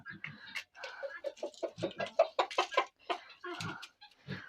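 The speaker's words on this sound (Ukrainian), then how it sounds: "От півник. Візьме в дзьоб і кличе." A rooster clucks close by in a rapid series of short, chattering calls, calling hens, some quick and repeated, without any human talk.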